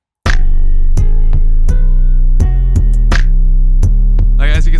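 In a hip-hop beat, a deep booming 808 bass sustains continuously under sharp, regularly spaced piano stabs, the low end loud and muddy enough to clash with the piano.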